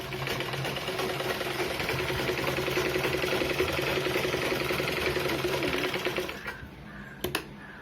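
A sewing machine runs one continuous close stretch of stitching through blouse fabric for about six seconds, then stops with a few light clicks.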